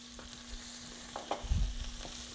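Green chili and ginger sauté in a pan with a soft, low sizzle and a brief stirring scrape near the end, faint and close, with no voices.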